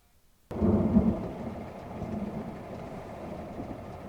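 Deep rumble of thunder from an approaching storm in a TV drama, starting suddenly, then rolling on loud and low for several seconds with no talk.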